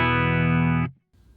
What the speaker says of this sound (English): This is the guitar sound on its own.